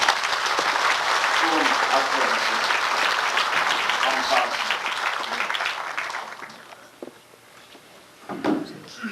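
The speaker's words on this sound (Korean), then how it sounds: "박수로 하겠습니다." Church congregation bursting into loud, sustained applause during an elder ordination and deacon installation service, fading after several seconds to quieter room sounds with a brief rustle near the end.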